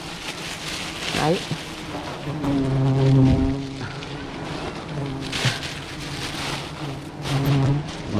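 Steady rain and gusting wind make a broad hiss outdoors during a small honeycomb collection, with people talking over it throughout.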